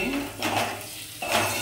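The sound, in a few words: stirring fish curry masala in a pan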